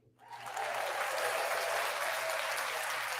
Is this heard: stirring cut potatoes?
no